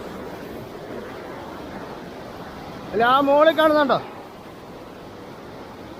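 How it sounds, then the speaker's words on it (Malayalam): A waterfall's steady broadband rush of falling water fills the scene, constant and moderately loud, with a brief voice speaking partway through. "അതാണ് വെള്ളച്ചാട്ടം"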